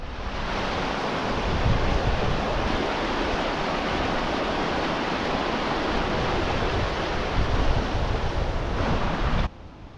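The River Wharfe rushes past a wooden footbridge with a loud, continuous broadband water roar that holds steady for the whole stretch before dropping off abruptly just at the end.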